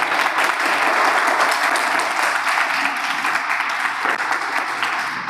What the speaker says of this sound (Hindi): आप चाहते हैं तो तालियों से बताओ, तालियों से।